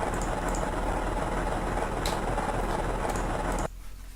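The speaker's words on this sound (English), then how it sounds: "Sounds like there's a powerful engine on those skateboards" A powerful engine roar in a video game, attributed to skateboards, drones loudly and steadily with a deep low rumble for most of the clip, then cuts off abruptly near the end, leaving a faint hum.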